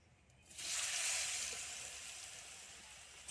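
Potatoes with salt and turmeric frying in hot oil over a wood-fired stove, a loud steady sizzle bursting in after a quiet start and holding evenly throughout with no talk.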